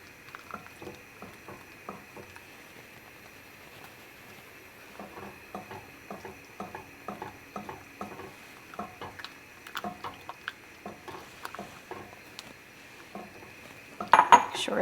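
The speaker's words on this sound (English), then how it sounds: "Okay, so this is my sugar and pectin mixture. Stir it in slowly." A sugar and pectin mixture is stirred slowly into pears in a pot, heard as a steady run of light spoon taps and scrapes against the pot, close but quiet, ending in a brief louder clatter.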